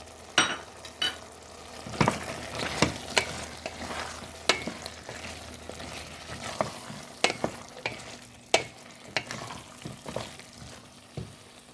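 Potato pieces tumble into a pot of Turkish türlü vegetable stew simmering with tomato paste, tomatoes and beans. A steady low sizzle runs throughout, broken by repeated sharp clatters and scrapes of stirring, with no talk.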